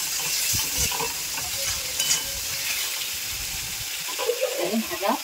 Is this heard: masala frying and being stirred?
yes